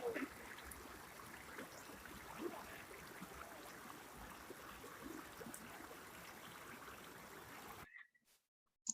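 Mountain river near Kudus flowing steadily, a continuous broadband rush of water heard up close for most of the stretch, then cutting off abruptly near the end.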